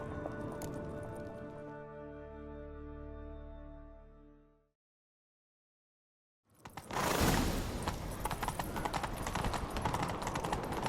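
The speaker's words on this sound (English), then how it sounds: "Grab a horse, we'll chase him down." A horse gallops in The Witcher 3 with rapid, rhythmic hoofbeats under loud orchestral game sound, then a few seconds of silence before a dense, noisy stretch of riding resumes.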